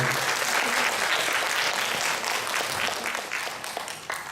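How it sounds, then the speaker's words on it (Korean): A church congregation at a Sunday worship service claps to welcome a new family, dense sustained applause filling the room and slowly thinning toward the end. "환영한다고 저희 박수 한번 쳐드릴게요"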